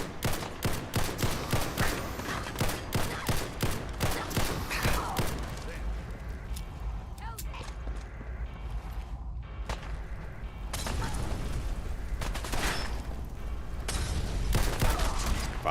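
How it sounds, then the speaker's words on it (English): Video game gunfire aimed at the player, rapid bursts of shots up close, dense at first and then thinning into scattered reports over an ongoing noisy background. "Who's shooting me?"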